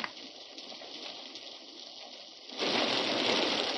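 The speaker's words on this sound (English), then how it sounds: "I said the rain on the roof is lovely" Rain falls on a roof as a soft, steady hiss that swells noticeably louder partway through, with no voices over it.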